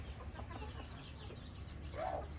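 Domestic hens and a rooster kept on a rooftop cluck in short bursts, with one louder call near the end over a steady low background.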